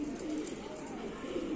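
Soft cooing of pet pigeons after rain murmurs steadily over a low, continuous background hum, with no clear pauses.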